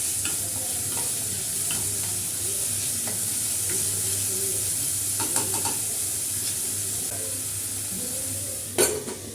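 Finely chopped onions sauté in oil and butter in a pan with a loud, continuous sizzle, punctuated by occasional spoon scrapes and a sharp clack near the end, with no one speaking.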